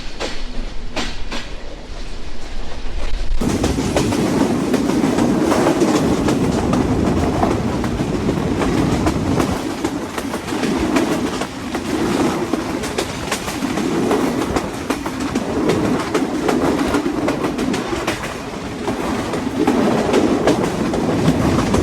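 Chitra Express passenger train running on rails in Bangladesh, near Jessore and approaching Phultala station: a loud, steady rumble of wheels on track with clickety-clack rhythm and rattling carriages, continuous throughout with no voices.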